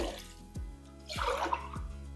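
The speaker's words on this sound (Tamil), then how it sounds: "இப்போது இதுக்கு நாலு டம்ளர் அளவுக்கு தண்ணி ஊற்ற போகிறேன்" Water poured in short bursts into a pot for sambar rice, about four tumblers, with splashing, bubbling and a few drips, fairly close and moderately quiet.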